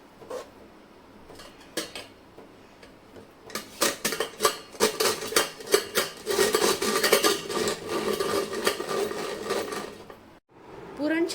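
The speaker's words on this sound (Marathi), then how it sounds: "माझ्याकडे असं पुरणयंत्र यंत्र आहे मी याच्यामध्येच वाटून घेते" Hot cooked puran filling is pushed through a hand-cranked puran grinder, starting with a few soft scrapes and building into a long run of loud, close, rhythmic metallic clattering and grinding.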